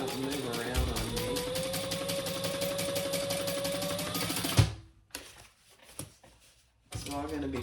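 A home sewing machine bastes two fabric pieces of a crossbody bag closed, a steady close mechanical whir that stops abruptly, followed by a few light clunks and handling sounds.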